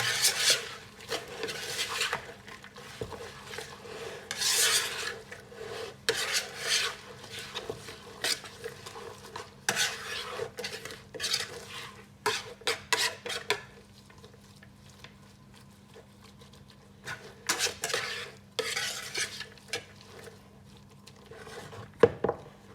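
Grated potato rösti ingredients are mixed in a bowl, producing intermittent close scraping and stirring bursts with soft clinks of a utensil and quiet gaps between strokes.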